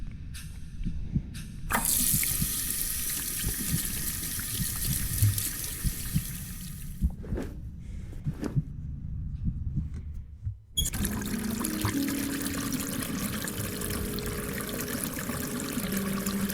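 Water running steadily from a tap in a video game, a continuous loud gush that briefly cuts out and then resumes.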